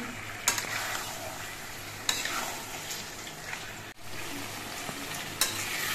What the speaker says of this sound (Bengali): এবার চিকেনগুলো আরো বেশ কিছুক্ষণ কষিয়ে নিতে হবে।